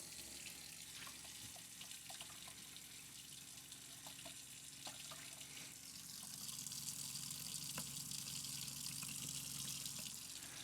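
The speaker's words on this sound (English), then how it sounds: "Now we have to go to each faucet and turn on the cold water and the hot water" Cold water runs from an RV faucet while bleach solution is flushed through the fresh water lines, a steady hissing stream into a sink that grows slightly louder partway through, with no talk.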